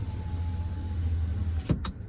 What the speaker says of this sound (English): We got sliding rear window right here.